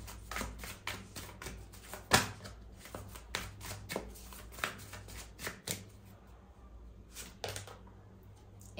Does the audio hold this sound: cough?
no